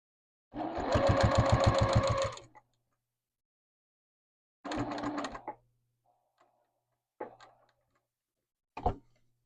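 A sewing machine runs a quarter-inch seam on the binding of a quilted name badge: one long steady stitching run of about two seconds, a shorter run, then a few brief clipped bursts. Each run is close and clear, with no voices.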